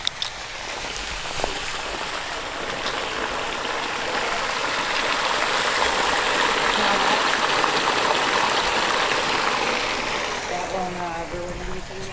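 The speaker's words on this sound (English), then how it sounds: "My brother's gonna throw in this water pump to get rid of the water" Water pump running steadily to drain a flooded trench at a log cabin renovation site, a continuous broadband churning and splashing drone that holds for the whole stretch, with a brief voice at the end.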